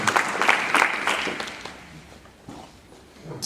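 Clapping from a church congregation at a bilingual English–French worship service starts loud and dense, then thins and fades into scattered faint claps.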